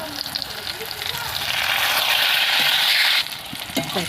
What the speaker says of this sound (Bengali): তো পটলটাকে লাল লাল করে ভেজে নেব বন্ধুরা